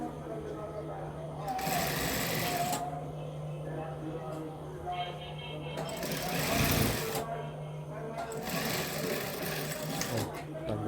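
A sewing machine stitches a salwar in short bursts of rapid mechanical whirring, running in several separate spells with pauses between them while someone talks throughout.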